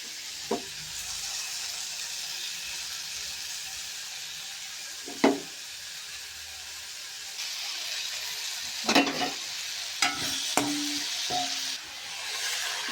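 Ridge gourd pieces fry in a pan for chutney, a soft continuous sizzle broken by several sharp scrapes and knocks as a spoon stirs them, with no talking.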